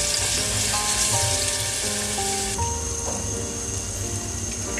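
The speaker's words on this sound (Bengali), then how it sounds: "রসুনটা ভেজে নিচ্ছি।" Garlic frying in oil gives a steady, bright sizzle, while faint tonal sounds run underneath the whole time.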